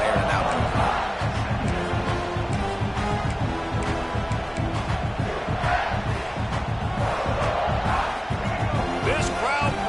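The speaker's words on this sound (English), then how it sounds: "This crowd bringing the energy and noise early." A football stadium crowd roars and chants in a dense, steady wall of noise, with scattered shouts and thuds rising out of it throughout.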